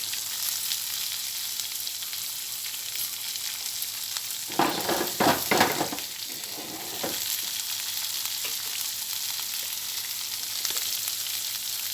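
Green chili, carrot and capsicum frying in a pan for rava upma, giving a steady close sizzle throughout, with a brief burst of stirring and louder crackle midway.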